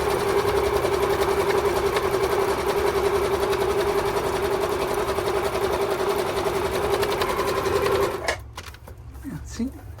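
A Singer 7528 sewing machine runs a zigzag stitch in a fast, steady mechanical whir that stops abruptly near the end, followed by quieter handling noises.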